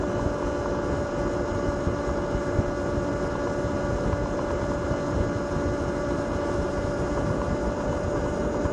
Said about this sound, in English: It must be the noise of the electric motor and the chain and the tyres, I suppose.